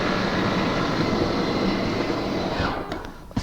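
A Camplite Livin Lite 8.4s truck camper's slide-out motor retracts with a steady low drone, then winds down near the end with a few faint clicks.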